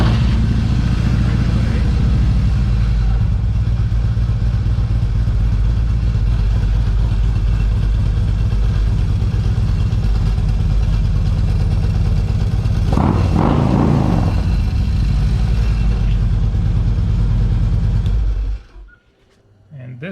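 A wrecked 2013 Harley Davidson Electra Glide Classic under rebuild runs with a loud, steady, close engine rumble and a brief rattling burst midway before the engine shuts off abruptly near the end, with a voice speaking over it.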